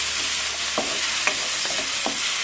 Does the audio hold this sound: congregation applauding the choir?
no